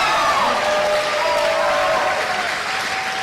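Spectators applauding at a women's singles pickleball match, sustained dense clapping filling the whole stretch, loud and fairly close, with a few faint voices in the crowd.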